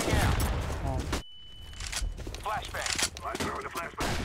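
Rapid gunfire bursts from Counter-Strike: Global Offensive dominate the opening second, then cut off; after a short gap, lighter in-game shots and movement sounds continue while players talk.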